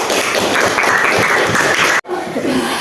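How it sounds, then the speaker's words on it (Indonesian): Classroom applause for a student group, a dense, sustained clapping of many hands filling the room, loud and steady, briefly cut off near the end before resuming. "Kita berikan aplaus dulu kepada kelompok 2."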